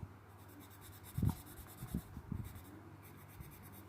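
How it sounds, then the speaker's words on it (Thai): Colored pencils rub across paper as a green jacket drawing is shaded in, giving faint, close scratchy strokes that come in a few short bursts against a quiet background. "ระบายสีไม้กัน นะคะ แบบง่าย ๆ"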